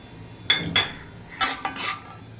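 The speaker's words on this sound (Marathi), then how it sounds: "त्याच उरलेल्या तुपात काजू भाजून घेऊया" Cashews roasting in leftover ghee in a pan: a few clinks and scrapes of a spoon against the pan, brief and fairly close, with quiet gaps between.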